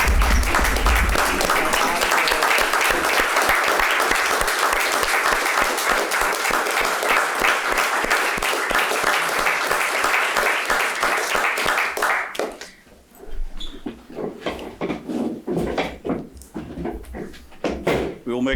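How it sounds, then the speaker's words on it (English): A school committee meeting breaks into a round of applause. Dense, steady clapping carries on for about twelve seconds, then stops abruptly, and talking and room noise take over. "I'd like to give a round of applause."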